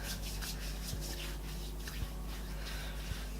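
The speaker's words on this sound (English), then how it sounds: "I'm just going to rub it on me" Lotion being rubbed onto skin by hand, a close, soft, steady swishing friction with faint damp squishes and occasional light taps, and no one talking.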